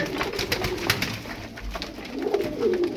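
Tumbler pigeons cooing close by, soft throaty coos repeating over a steady background of other birds, with no voices.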